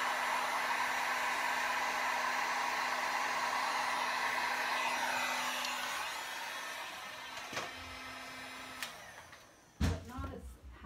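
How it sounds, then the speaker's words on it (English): A blow dryer runs steadily while heating resin for a Dutch pour, a loud continuous whirring hum that fades over several seconds and ends in a few clicks and handling knocks. "so let's try the blow dryer."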